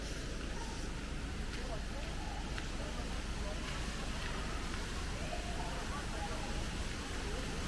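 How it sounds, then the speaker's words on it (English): Waterfalls in a Queensland forest make a faint, steady, distant rushing hiss that carries on without a break. "And you can hear the waterfalls."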